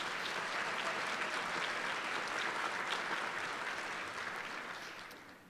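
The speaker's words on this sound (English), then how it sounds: "So give them all a round of applause." A breakfast audience at an awards event gives a long, sustained round of applause, an even wash of many hands heard from a distance that gradually fades away at the end.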